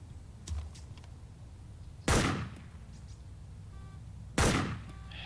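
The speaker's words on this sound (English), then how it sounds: "We're using the Lee Enfield, it's a bolt action rifle." Two sharp Lee Enfield bolt-action rifle shots ring out in the ARMA 2 video game, each loud crack trailing into a short echoing decay, spaced about two seconds apart, with a faint click earlier on.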